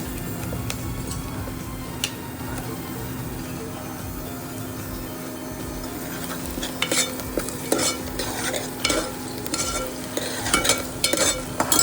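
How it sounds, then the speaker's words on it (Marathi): Onion and garlic sizzle and fry in a pan for a kolambi (prawn) dish, with steady stirring scrapes throughout and brisker, louder stirring strokes in the second half; no one speaks. "कांदा टाकून घेतो, लसूण टाकू थोडासा."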